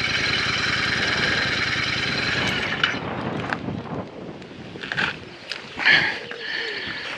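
A Royal Enfield motorcycle stopped on a Lincolnshire country lane idles with a low, steady thrum, close and moderately loud under wind buffeting the microphone. Rustling and brief handling noises come near the end.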